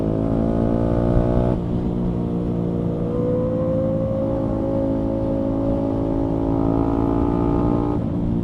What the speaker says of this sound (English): this is Danny's first ride with that exhaust on, and he's loving it so far.